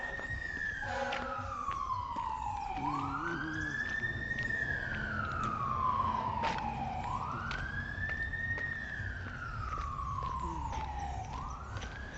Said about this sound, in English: I hear some sirens going.